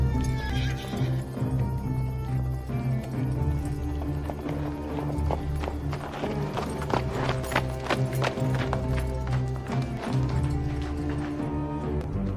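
A horse neighs and its hooves clip-clop steadily on the ground in a horror sci-fi movie scene, the whinny and rhythmic hoofbeats sounding close and clear over a continuous musical score.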